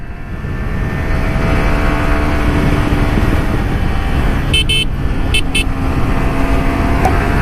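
A Yamaha R15 V3 BS6 supersport motorcycle engine pulls hard through its gears, heard as a loud, continuous riding roar with heavy wind rush and a few brief high tones near the end.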